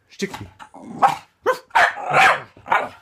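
A dog barks on command indoors, several close yips and barks in an uneven series, with a voice mixed in among them.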